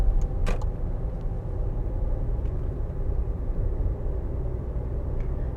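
A car pulling away and shifting up into second gear on a practical driving exam route, engine rumble steady and close inside the cabin with a brief click early on.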